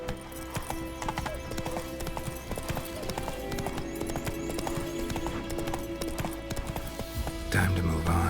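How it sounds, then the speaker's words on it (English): Roach, the horse in The Witcher 3, gallops with rapid rhythmic hoofbeats clip-clopping close by, while a voice speaks over the running in the middle of the stretch. "Run, Roach."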